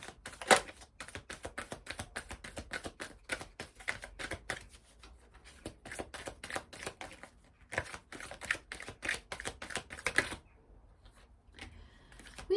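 A deck of oracle cards is shuffled and drawn by hand, giving quick bursts of crisp, riffling flutter and card slaps in irregular runs, with short quiet pauses between them and no talk.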